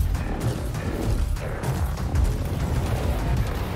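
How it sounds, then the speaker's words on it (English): Delayed sticky grenades detonate in a shooter video game, a dense continuous stretch of overlapping booms, pops and crashes with heavy low rumble throughout. "There are the explosions."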